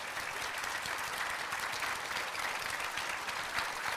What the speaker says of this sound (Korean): 오늘의 출연자분들을 일단 박수로 한꺼번에 맞이하겠습니다